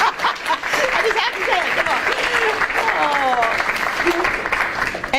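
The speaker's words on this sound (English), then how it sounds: "You can clap now." Audience at a Mercer University news conference bursts into clapping mixed with cheers and whoops, a dense, lively crowd response with voices rising over the applause throughout.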